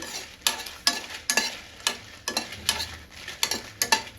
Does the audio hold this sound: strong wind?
no